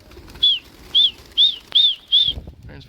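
A pet pigeon flies overhead, its wings giving five distinct, evenly spaced whistling flaps, fairly close and clear against a quiet outdoor background.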